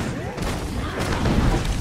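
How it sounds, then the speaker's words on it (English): Cannon blasts from pirate base cannons strike a player in the Lego Minifigures Online video game, on Volcano Island, a dense run of booming thuds and explosions over about two seconds, loud and mixed with game noise. "Getting hit by your cannons."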